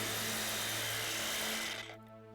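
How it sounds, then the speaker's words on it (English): A reciprocating saw buzzes loudly and steadily with a droning hum while cutting through a moose sternum, then winds down and fades at the end. "Now, saw the sternum to clear the organs. The use of a reciprocating saw will greatly facilitate the task."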